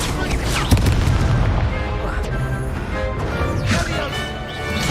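Spell combat in Hogwarts Legacy, with a Confringo fire-blast spell bursting into repeated booming explosions and crashes over a dense, loud, continuous battle din.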